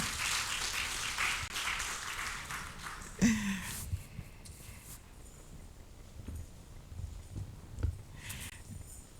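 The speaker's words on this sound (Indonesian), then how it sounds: "Mungkin boleh berikan tepuk tangan sekali lagi" Applause from a congregation at a church service, a dense burst of clapping at the start that thins out after a few seconds into scattered claps and faint room noise.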